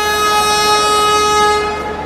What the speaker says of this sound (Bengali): কোনো একটা ট্রেন ছাড়লো।